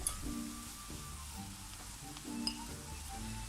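Chopped spinach frying with onion and garlic in a pan, a steady low sizzle with a few soft stirring scrapes and one light clink, close and alone.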